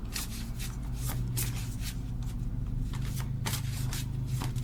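A deck of oracle cards being shuffled by hand, giving a steady run of papery riffles and flutters up close with no talk.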